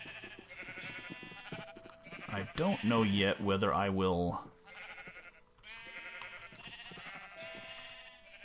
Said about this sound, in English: so that's why I've got some crazy psychedelic sheep